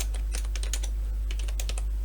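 Rapid keystrokes on a computer keyboard while editing an Urdu question paper in Microsoft Word, with irregular clusters of close clicks over a steady low hum.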